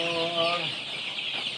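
KUB chickens on a chicken farm cluck steadily and close by, a dense flock chatter running throughout, with a person briefly speaking over it at the start.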